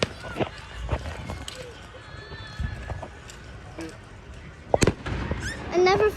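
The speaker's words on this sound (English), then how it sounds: "I'm hearing fireworks." Fireworks and firecrackers go off outdoors in scattered sharp pops and bangs, some near and loud, with a cluster of louder blasts late on and faint whistling tones between.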